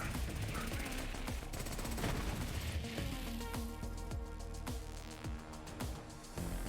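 Rapid continuous gunfire from the Infinity Pistol with infinite ammo and a bottomless magazine in Borderlands 3, dense repeated shots in a sustained barrage with explosive impacts and game effects mixed in.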